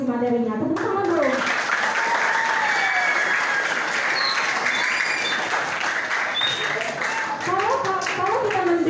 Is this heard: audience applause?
yes